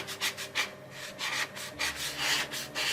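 A squeegee or card rubbed firmly over a stencil on a flat surface, giving repeated scraping, brushing strokes in a steady back-and-forth rhythm, close and moderately loud with no talking.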